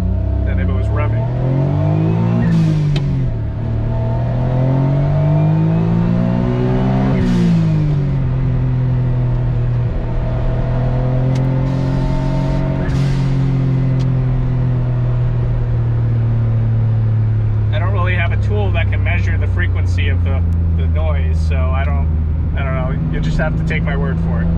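An Autozam AZ-1 with a catalyst downpipe exhaust runs, its engine holding a deep, steady idle drone with a couple of brief rises in pitch, while someone talks close by over the sound.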